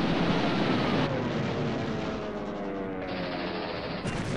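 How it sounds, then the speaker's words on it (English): Machine gun bursts from a Bf 109 fighter, a board game sound effect, roaring loud and dense for over four seconds as continuous rattling gunfire, with slight shifts between bursts and no talk. "The 109 fires three bursts."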